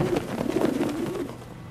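Pigeon cooing in the video game Prey, a soft, low, rolling coo repeated in a short burst, moderately close, without any talking.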